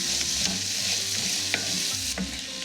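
Red potato pieces with their skins on, frying with sautéed onion in a skillet: a steady, close sizzle broken by occasional scrapes and stirs, with no talking.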